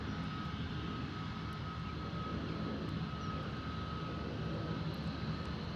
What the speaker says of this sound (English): Lovely arrival there from the Gulfstream.